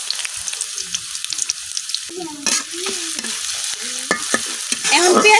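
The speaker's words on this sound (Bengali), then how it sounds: "এখন যে দিতেছি কাইটা পেঁয়াজ" Chopped onions sizzle and fry in hot oil in a heated kadai on a village cooking stove, with a steady crackling hiss and repeated close scraping strokes of a stirring spoon that grow busier toward the end.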